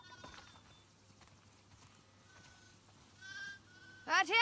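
Sheep in The Last of Us Part 2 give faint, scattered bleats amid quiet farm ambience, building to a louder, wavering bleat close by at the end.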